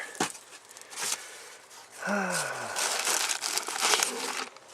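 Paper crinkles and rustles in bursts as an owner's manual is rummaged from a storage spot in a Ford pickup cab, close and fairly loud, with a brief sighing breath midway.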